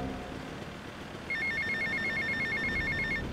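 In GTA Vice City, a phone rings with a rapid warbling electronic trill that starts after about a second and continues steadily over a low background hum.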